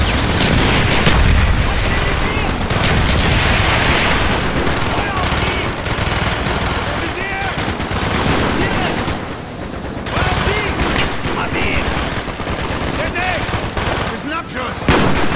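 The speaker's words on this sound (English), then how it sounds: "Firing mortar!" Dense, continuous gunfire and heavy booms from mortar fire fill a Call of Duty Black Ops battle, with shouted voices mixed into the loud, unbroken combat noise.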